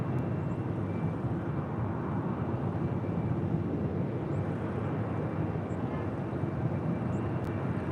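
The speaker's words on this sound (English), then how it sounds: "Tokyo Haneda, flight 16, this 10-year-old 787-9 Dreamliner" A ten-year-old Boeing 787-9 Dreamliner on a Tokyo Haneda flight at LAX gives a constant, moderately loud jet rumble, an even wash of engine noise without peaks and with no one talking.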